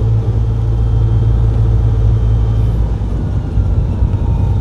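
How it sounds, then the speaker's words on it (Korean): A manual-transmission car's engine runs steadily while driving, a loud, continuous low rumble and hum with no clear changes in pitch, heard from inside the cabin. "엔진 소리가 다르죠, 그죠?"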